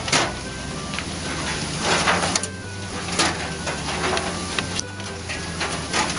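An oyster processing machine with shelled oysters passing through it, a steady mechanical whir and rattle with repeated clacking knocks from the conveyor, close and continuous throughout.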